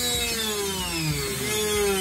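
A power drill whirs steadily, boring holes in wood for pins on a budget Stratocaster-style guitar, its pitch gliding slowly downward as the bit bites in, with a rough grinding texture throughout.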